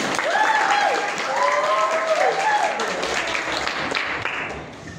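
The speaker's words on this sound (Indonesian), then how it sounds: "Tepuk tangan untuk Ani" A classroom of students claps for a classmate named Ani, a steady, fairly loud patter of many hands, while a voice speaks briefly over the clapping.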